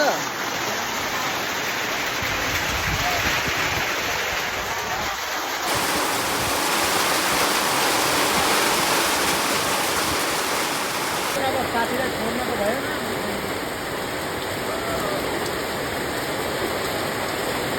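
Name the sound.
rain falling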